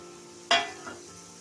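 Chicken pieces dropped into fried masala in a pan for an Andhra ginger chicken curry, giving one sudden loud sizzling burst that fades over half a second over a faint steady background hiss.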